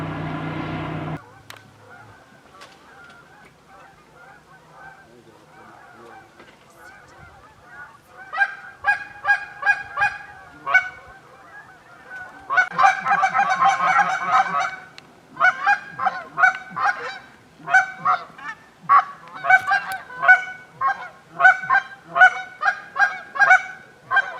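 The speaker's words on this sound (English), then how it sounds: "right at shooting time, the geese were working" A flock of geese honks repeatedly, sparse at first then building into a busy, overlapping chorus of loud calls, fairly close.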